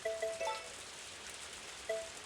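Soft, steady rain falls in the farming video game Story of Seasons: A Wonderful Life, a faint hiss running underneath a few short chiming game tones near the start and end, with no voices.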